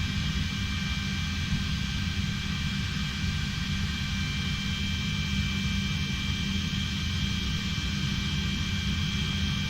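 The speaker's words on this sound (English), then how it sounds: "Still waiting on the APU to come up." An Airbus A320 auxiliary power unit runs in Microsoft Flight Simulator 2020, a steady loud turbine whine and rumble that holds constant with no speech.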